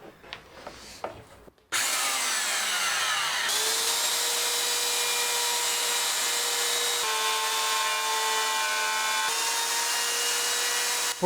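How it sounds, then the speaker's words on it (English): Router with a straight bit cutting a slot in a wood panel: after brief handling noise, the motor starts and runs loud and steady, with a high whine and the rough rasp of cutting throughout. "I'm going to remove the area in between, once again using the router and a straight bit"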